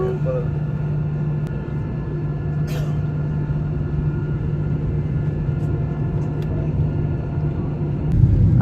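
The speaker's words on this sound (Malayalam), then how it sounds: "ഇതാ നമ്മളെ ഫ്ലൈറ്റ് ഇതാ പൊന്താൻ വേണ്ടി പോകുന്നത്. ഇതാ റൺവേ ഇതാ സ്പീഡ് കൂടി വരുന്നുണ്ട്." From inside the cabin of a passenger jet rolling down the runway at Kannur for takeoff, a constant deep engine roar and rumble fills the space, with a few faint clicks and a rising swell at the end.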